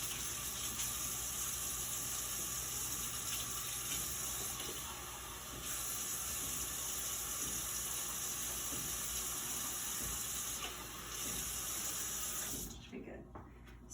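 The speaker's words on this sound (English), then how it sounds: "So I'm going to get some warm water." Warm water running from a kitchen tap, a steady hissing flow that dips briefly twice and stops abruptly near the end.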